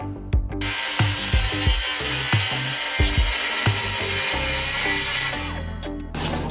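Plywood cut with a power saw while a vintage Holiday Rambler camper is being renovated. A steady, loud whine runs throughout, with rhythmic rasping strokes underneath and no talking.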